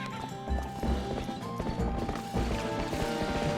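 Rapid hoofbeats clatter close by with a horse whinny mixed in, over busy game sounds and music from The Legend of Zelda: Twilight Princess, loud and continuous throughout.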